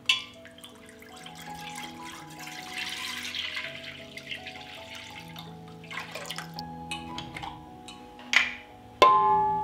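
Three litres of fresh farm milk pour steadily into a deep pot, a continuous liquid stream that builds and fades, ending with a couple of sharp clinks of the container.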